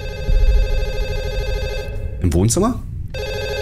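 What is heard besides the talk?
telephone ringing in a horror video game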